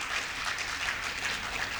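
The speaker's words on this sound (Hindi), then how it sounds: "ताली बजाने के लिए तालियां बजाओ" Steady applause from an audience at a Hindi comedy poetry show, an even wash of clapping that holds at a constant level with no voices over it.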